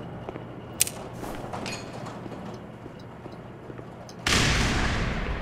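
A grenade blows up in the video game Black Mesa, a sudden loud, sustained blast near the end, following a quieter stretch of scattered sharp gameplay shots and clatter.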